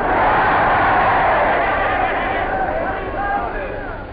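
A large London crowd in 1945 yells and roars at General Eisenhower's speech, a broad, loud, distant-sounding wash of voices that fades slightly.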